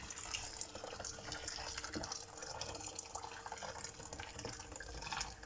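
Tap water pours steadily into a pot for cooking rice, a continuous faint splashing rush with no pauses, heard up close and alone without talk.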